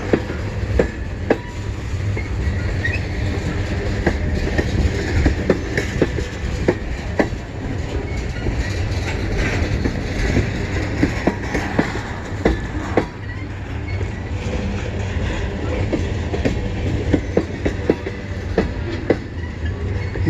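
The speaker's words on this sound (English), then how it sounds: "this one's CN northbound M382, so this should be the last train for today" A CN M382 northbound freight train rolls past in Kimball Township, a loud, steady rumble of wheels with scattered rail clicks and clanks throughout, no voices.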